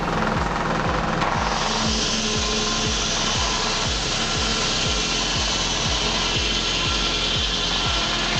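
An old Frick saw blade bites into walnut wood with a loud, continuous grinding roar and steady low thumps repeating every fraction of a second throughout.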